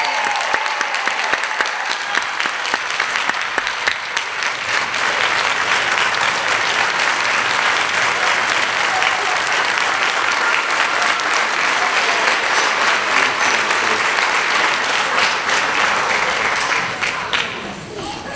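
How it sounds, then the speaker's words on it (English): Sustained audience applause for teacher of the year finalists in Newton County, a dense, even roar of clapping lasting many seconds before tapering off at the end. "let's give all 22 of our finalists a round of applause."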